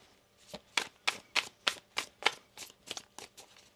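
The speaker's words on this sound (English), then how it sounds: "One more shuffle." Tarot cards being shuffled by hand, a run of about a dozen crisp riffling snaps in steady rhythm, close and fairly quiet with no talking.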